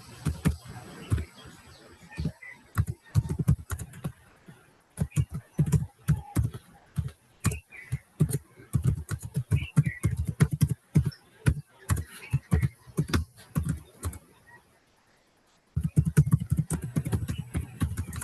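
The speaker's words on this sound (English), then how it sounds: "Let's type in the chat our introductions." Typing on a computer keyboard during an online community meeting, a close, steady patter of key clicks in bursts with a brief pause near the end before the tapping resumes.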